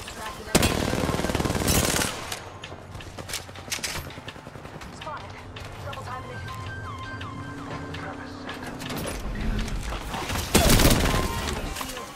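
Video game gunfire during a car chase, with loud bursts of automatic fire at the start and again near the end, quieter shots and game sounds in between, and players talking throughout.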